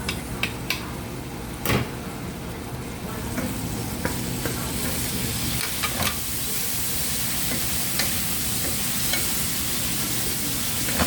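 Chopped tomato goes into a pan of bottle gourd and ground pork, frying with a steady sizzle under scattered clinks and scrapes of a spatula stirring the pan.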